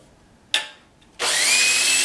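A power drill drilling out rivets during a BMW engine swap job: one short whirring burst, then after a pause the drill runs steadily and loudly until the end.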